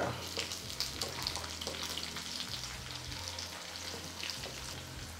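Onions and garlic fry in a pan for tomato kuzhambu, giving a steady, moderately quiet sizzle with a low background hum that carries on evenly throughout.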